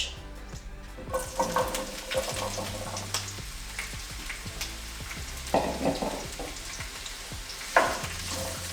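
Vegetables for a tofu stir-fry sizzle steadily in a hot pan with oil, with a spatula scraping and clattering against the pan at intervals, close up and fairly loud.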